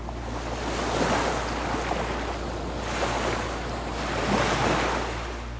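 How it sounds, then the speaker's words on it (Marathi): Sea waves surge and crash against the stone walls of Sindhudurg fort in broad, rolling swells, a continuous roar of surf with wind, swelling and easing in a slow rhythm, heard alone. "लाटा तटांच्या भिंतीवर अविरत आदळताना दिसल्या."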